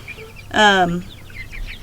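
A chicken gives a single short, harmonic call, close by, with softer chirping birds in the background.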